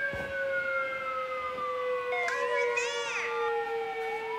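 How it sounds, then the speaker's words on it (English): A wailing siren rises and falls steadily throughout, loud and continuous against a constant background hum. "I'm having a hard time hearing you over this siren"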